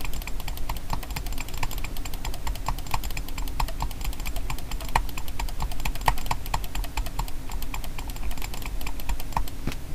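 A computer mouse is clicked extremely fast during a mouse clicking championship attempt: a dense, steady stream of sharp, close clicks with no pauses, heard alone.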